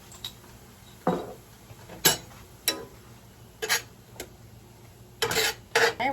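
Mushrooms and onions are mixed in a pan with a utensil, giving sharp intermittent clinks and scrapes against the metal, spaced irregularly over a quiet background.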